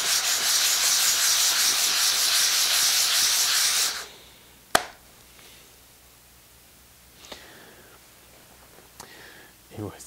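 A wooden kumiko piece is pressed flat and sanded on abrasive, giving a steady, loud rasping scrub for about four seconds that stops abruptly, followed by a sharp click and a few faint knocks.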